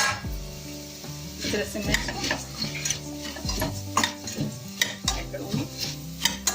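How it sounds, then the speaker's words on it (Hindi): Puffed rice roasts in hot ghee in a kadhai with steady crackling sizzle and repeated spatula scrapes, under background music and someone briefly speaking. "अब इसमें मैं मुरमुरे डाल रही हूँ।"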